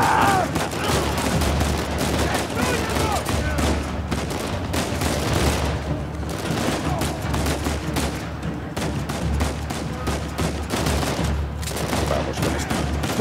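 Combat in Uncharted 4 on PS4: repeated rapid bursts of gunfire and loud shots mixed with booms run throughout, with brief lulls and occasional talking underneath.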